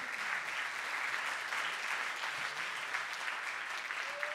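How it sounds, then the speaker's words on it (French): An audience at an economic forum applauding a speaker coming on stage: steady, dense clapping from a large crowd that holds at an even level throughout. "On peut l'applaudir pour l'accueillir sur scène"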